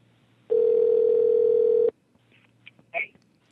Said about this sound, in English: I used Skype, just dialing to his phone